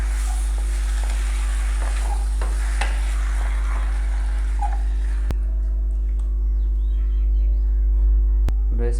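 Chopped tomatoes added to lightly fried spices for a Nepali-style tomato pickle, giving a steady sizzle and frying crackle with occasional stirring clicks, close and continuous under a low electrical hum, without talk.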